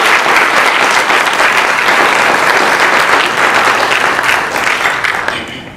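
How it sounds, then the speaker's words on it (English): Loud, full audience applause at a university Chabad anniversary dinner gala, a dense sustained roar of clapping from a large room that holds for several seconds before starting to fade at the end. "So I'd like to give everybody a round of applause just for being here."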